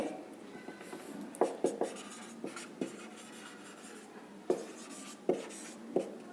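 A pen or pencil writes an equation on paper, giving soft scratchy strokes punctuated by several sharper taps and clicks at irregular intervals, close and fairly quiet in an otherwise still room.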